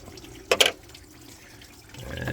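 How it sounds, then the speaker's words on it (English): Coolant gushes from an opened car radiator drain cock in a brief loud splashing burst, then a steadier trickle of liquid running out, close by with no speech. "Hear the coolant coming out."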